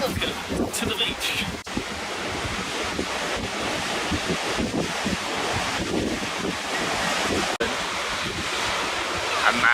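Steady ocean surf rolling onto a beach in October, mixed with gusting wind buffeting the microphone, a continuous loud wash of noise throughout with no voices.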